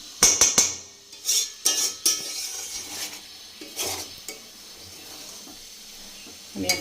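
A spoon stirs chicken liver curry in a pan, giving a series of sharp metallic clinks and scrapes in irregular bursts over a soft background sizzle, close and fairly quiet.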